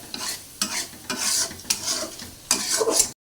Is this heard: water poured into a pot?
no